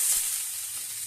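Potato and eggplant frying in a pan, a bright, steady hissing sizzle held evenly close by for a brief moment with no voices.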